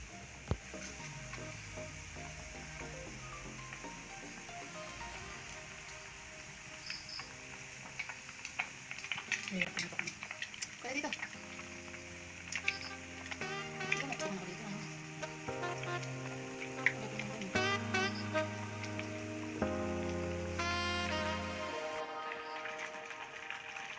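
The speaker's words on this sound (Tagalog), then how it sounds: "Maingay na yung ating mantika." Oil sizzling and popping while cheesy croquettes fry, a steady hiss with scattered sharp crackles that grow busier over time, close, with music playing along throughout.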